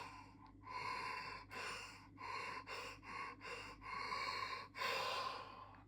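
Deep open-throated breaths from a guided breathwork session, a series of loud rhythmic airy inhales and exhales in short bursts with brief pauses, building to a longer, fuller breath near the end, close and without talk.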